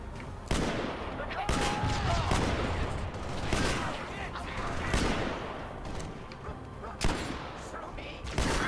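Repeated shotgun blasts ring out in Halo: Spartan Assault, sharp loud reports spaced irregularly amid ongoing game combat noise and music.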